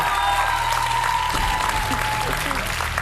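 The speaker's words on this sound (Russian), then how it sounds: "Женя, ты красотка, и ты заслужила эти аплодисменты сегодня" Studio audience applause on a Ukrainian weight-loss reality show finale, steady dense clapping throughout with a voice speaking over it.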